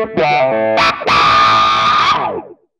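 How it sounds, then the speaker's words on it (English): Electric guitar played through an envelope filter placed before the amplifier, a short phrase of distorted notes with a sweeping, vowel-like wah that opens sharply on a sustained chord before it fades out. "You might use an envelope filter before an amplifier so that it can read your cleaner, unprocessed guitar signal."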